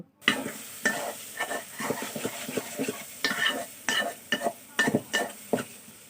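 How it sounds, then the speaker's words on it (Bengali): A spatula stirs and scrapes spices frying in a pot for beef curry made with poppy seeds, giving repeated scraping strokes and clinks over a soft continuous sizzle. "এবার আমি একটা খুন্তি দিয়ে এটাকে সবগুলো মশলাকে আমি একসাথে মিশিয়ে দিচ্ছি"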